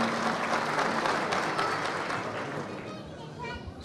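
Audience applause at an association gathering in Turkey as the association president, Rahim Eraslan, is invited to the podium; a steady, full wash of clapping that fades slightly toward the end, with some crowd murmur underneath.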